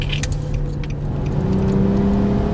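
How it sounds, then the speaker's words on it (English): A Nissan Murano with a low-power fault accelerating sluggishly, its engine a steady, loud, close hum and whir that rises only slightly in pitch, with no voices. "A little sluggish on acceleration, but it's not stalling."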